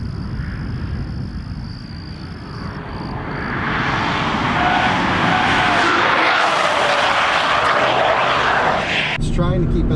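A Volvo V60 T8 Polestar Engineered hybrid wagon driving hard on a race track, a loud, constant drive and road roar heard from inside the car that swells and intensifies partway through, with a brief clicking near the end.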